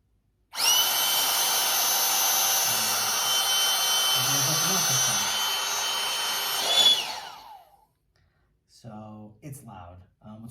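Small battery-powered air pump for inflating a backpacking sleeping pad runs with a loud, high-pitched motor whine for about six seconds, then spins down, followed by someone speaking.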